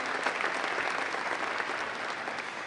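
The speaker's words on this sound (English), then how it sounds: "let's give Catherine a round of applause" Audience applause at a school district leadership meeting, honoring a woman named Catherine: dense, steady clapping from a crowd, fairly close and continuous for a few seconds.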